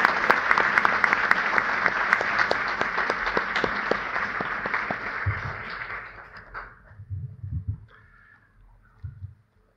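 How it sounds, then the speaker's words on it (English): Audience at a school board meeting gives a sustained round of applause, dense clapping that fades out, followed by a few scattered sounds. "If we can give our Brookside colleagues one final round of applause."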